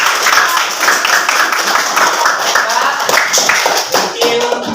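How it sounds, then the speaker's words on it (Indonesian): Students in a classroom clap their hands together in a lively burst of applause, loud and close, with quick uneven slaps continuing for several seconds and some voices mixed in. "tepuk tangan untuk kita semua"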